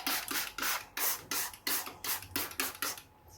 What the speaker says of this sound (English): Okay, so I need to spray that.